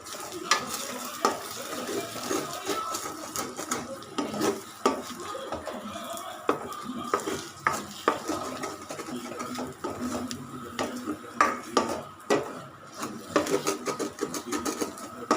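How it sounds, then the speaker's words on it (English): Egg noodles fry and sizzle in a pan with salt and pepper while a utensil stirs and scrapes them in frequent irregular clatters against the pan, close and continuous. "start frying."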